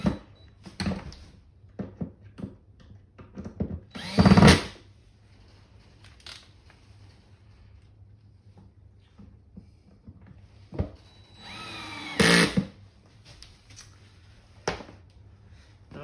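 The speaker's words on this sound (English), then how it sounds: "it's the thing with the little ratchet clip on it. And we're just going to screw those in." Assorted clicks, rattles and scraping handling noises while a small ratchet tool drives screws into a Berg steel XL toy trailer, in bursts with louder clunks near the start and toward the end.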